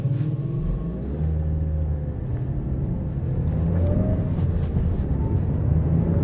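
Steady, fairly loud engine and road rumble heard from inside a car crawling through traffic on the way to a doctor's appointment, continuous throughout with no talking.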